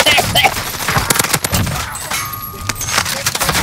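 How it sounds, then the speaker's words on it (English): Rapid automatic gunfire from a Warzone battle royale firefight, loud bursts crackling close by, dense and continuous for a few seconds, with no speech heard. "Somebody's shooting at you."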